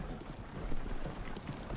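Horse hooves clip-clop steadily in a Wild West roleplay video game, a continuous rapid patter of soft hoof beats close by, with no talk over it.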